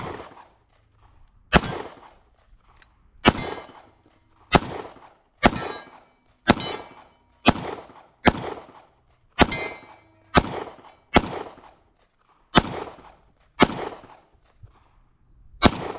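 Pistol shots from a Canik METE MC9 at a shooting range, about a dozen sharp loud cracks spaced roughly a second apart, each with a short ringing decay, no talking.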